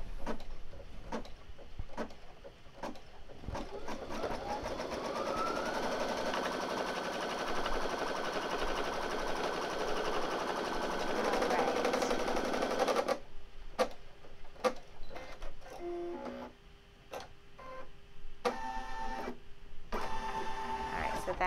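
A home embroidery machine stitches an in-the-hoop fabric project for the Fourth of July, a steady fast mechanical rattle running close and loud for about twelve seconds before stopping, then scattered clicks and brief machine sounds.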